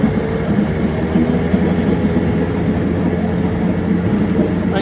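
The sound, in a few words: 1976 Johnson 9.9 outboard motor running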